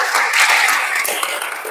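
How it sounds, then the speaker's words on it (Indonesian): A class of students clapping hands during a physical education lesson, a brief burst of dense, close clapping that stays even and loud throughout. "Oke, tepuk tangan dulu."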